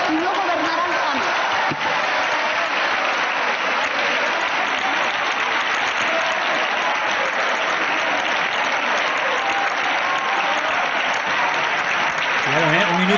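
Sustained applause fills a parliament chamber, a dense, loud, unbroken wash of clapping from many hands lasting the whole stretch, with voices faintly underneath.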